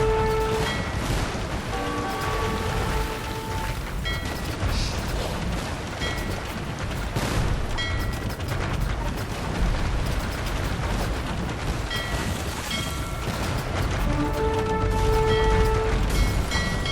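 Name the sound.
cannon fire from galleons, video game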